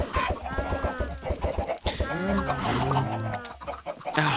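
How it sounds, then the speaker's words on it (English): A crowd of chickens in the Minecraft video game clucks continuously at close range, with overlapping cackles and clucks that form a busy, steady din and no clear pauses. "you've got too many chickens"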